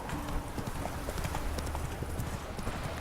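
Roach the horse trotting in The Witcher 3, a steady rhythmic clip-clop of hooves over a constant background bed, fairly quiet, with no talk.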